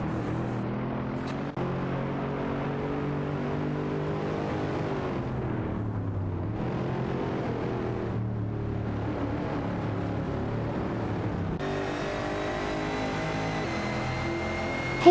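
Engines of AI-controlled cars in a racing video game drone steadily for the whole stretch, their pitch climbing and dipping with gear changes, turning brighter and higher near the end, with no voices.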